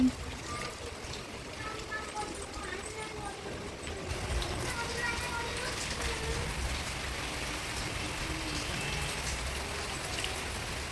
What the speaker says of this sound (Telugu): వర్షం చూడండి ఫుల్ వర్షం పడుతుంది